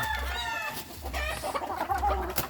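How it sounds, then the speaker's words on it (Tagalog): A three-month-old spangled hatch gamefowl clucking up close, a few short throaty clucks and squawks in quick succession, loud and alone. "Malaking manok po ito mga kagri. 3 months po ito."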